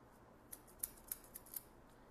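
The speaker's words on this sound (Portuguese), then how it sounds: "Então eu vou passando o pente e vou batendo a tesoura para a gente tirar o peso dessa parte aqui da aresta" Barber scissors snip hair while a comb is run through it during a fade haircut, with five or six soft, crisp snips at irregular intervals, close and quiet, with no talking.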